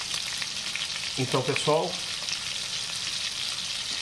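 Pork ribs fry in a pan with a continuous, close sizzle that fills the whole stretch, while a person speaks briefly over it.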